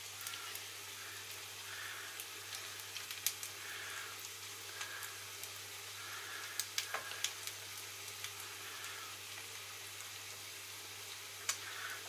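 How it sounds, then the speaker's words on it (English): A breaded fish cake frying in oil, a faint continuous sizzle with scattered small pops and ticks over a low hum. "once you've got that breaded to your satisfaction, that can go straight into the oil"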